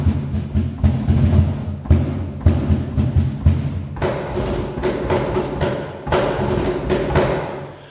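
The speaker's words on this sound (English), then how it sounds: "I've loaded up the first instrument, which is the cajon, and obviously that's played by hands." Cajon drum samples played on a MIDI controller give a loose, close rhythmic pattern of deep hand-struck thumps mixed with sharper slaps. No voices are heard.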